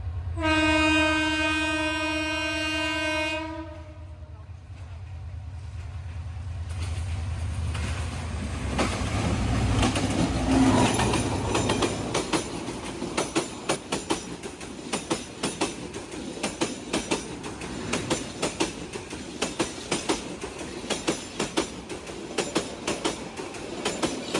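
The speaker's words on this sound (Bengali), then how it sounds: "সৌভাগ্যবশত আমরা লাওয়াছড়া উদ্যানে ট্রেনের দেখা পেয়েছিলাম" A train horn blares for a few seconds, then the train rumbles past nearby through Lawachara forest park in Sreemangal, Bangladesh, with rhythmic clattering wheels that continue steadily.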